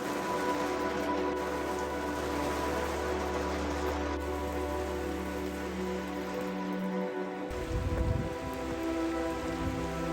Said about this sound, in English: the weather turned completely. Rain, storm, hard wind, no fun to sail.